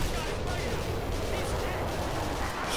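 Dense, loud gunfire in the military combat of the video game Black Mesa fills the whole stretch with rapid, continuous shots, while players shout over it.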